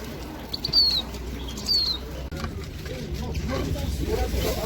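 Birds flapping their wings at an outdoor animal and dog market in Almaty, two brief flutters near the start, with a few high chirps and a steady crowd murmur throughout.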